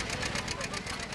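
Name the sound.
John Deere 720 antique tractor engine at tractor pull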